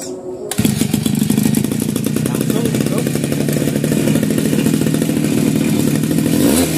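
Small lawn mower engine firing up after being refuelled, having earlier failed to start when cranked: a brief clatter, then a loud, steady, rattling idle that continues close by without talk.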